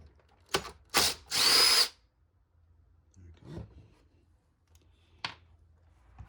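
A power drill backs screws out of a Graco Magnum Project Painter Plus airless paint sprayer: three close, loud whirring bursts, the last one longest, followed by quieter clicks and handling noises.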